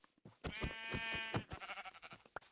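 Sheep in Minecraft bleat several times in quick succession, close and fairly loud, with a few brief clicks and game sounds around them and no speech.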